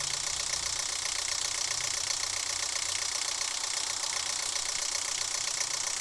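Inside the horror game Evil Project, a running generator engine gives off a constant, dense mechanical hum with a rattling, knocking texture. The noise is loud and unbroken throughout, with no voices.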